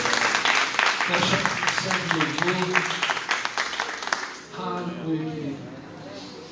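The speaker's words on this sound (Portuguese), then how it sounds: "Você pode aplaudir o Senhor por isso?" A congregation claps during a church worship service, a busy crackle of many hands under a preacher's voice that keeps talking over it, dropping off abruptly before the speaking continues alone.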